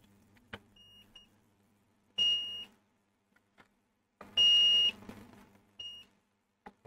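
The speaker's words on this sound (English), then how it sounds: "it shouldn't beep if I put one probe here and one probe in the middle pin" Three short electronic multimeter continuity beeps sound at intervals amid faint clicks and handling noise while probing a Philips 40PUT6400 TV board, each a steady high tone lasting under a second.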